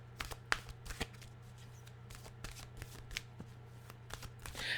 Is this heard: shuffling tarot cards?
yes